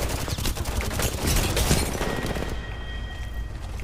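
Dense gunfire rattles in the video game Apex Legends, a loud continuous burst of overlapping shots and impacts that thins out toward the end, with no talking.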